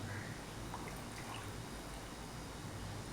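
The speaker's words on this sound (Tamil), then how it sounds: "நான் ஏழு கப்பு தண்ணி நான் சேர்த்துக்கிறேன்" Water being poured steadily into a clay pot of rice, with a soft continuous gurgling splash close by and fairly quiet throughout.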